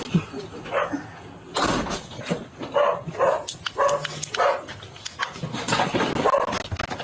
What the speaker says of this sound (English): You get the dog.